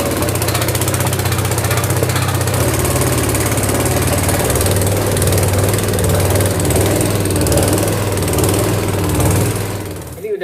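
A motor-driven machine grinding a large batch of dough runs with a loud, continuous mechanical drone and rumbling hum, steady throughout and close by, with no talk over it.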